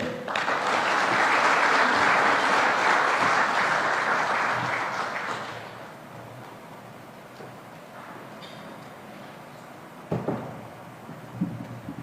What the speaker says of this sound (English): Another round of applause for the Prime Cabinet Secretary.